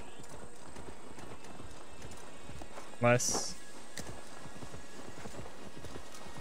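Horse hooves clip-clop faintly and steadily in Assassin's Creed Valhalla, a soft rhythmic patter under quiet game ambience, with a voice briefly speaking midway.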